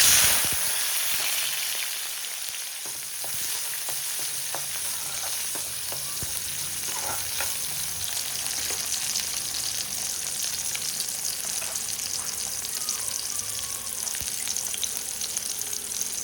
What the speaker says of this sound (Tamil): அடுத்து சின்னதாக கட் பண்ண சின்ன வெங்காயம் சேர்த்துக்கிறோம்.